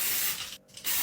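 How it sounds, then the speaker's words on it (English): Glitter spray hisses from an aerosol can in two close, steady bursts separated by a brief pause, loud and near, with no talk. "Spraying glitter on myself."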